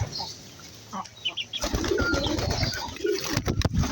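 Domestic pigeons, some of them Sirazi pigeons, feeding together: soft cooing and brief bursts of wing flaps close by, with busy rustling and no talk.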